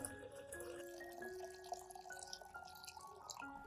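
Room-temperature water is poured into a garlic solution, giving a faint, steady trickle with light dripping and small ringing tones from the container, quiet and with no voices.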